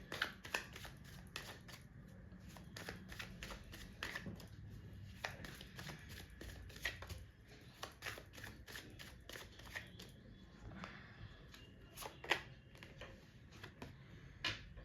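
Tarot cards being shuffled and drawn, close and quiet, with rapid papery riffles and sharp flicks coming in irregular bursts, sounding alone with no talk.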